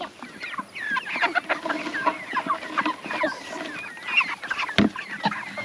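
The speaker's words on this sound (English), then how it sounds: "Do you like those chickens?" Farm chickens cluck and squawk continuously in a busy, overlapping chorus nearby, with one sharp knock partway through.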